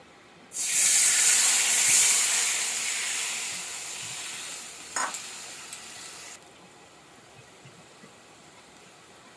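A paste of green chili and sesame with turmeric hits a hot wok with a sudden loud sizzle that gradually settles, broken by a brief stir or scrape, then cuts off to near quiet.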